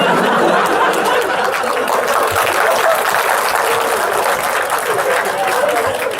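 Audience applause at a talk session, a dense sustained clapping from a crowd that stays loud throughout, with some chatter and faint laughter mixed in.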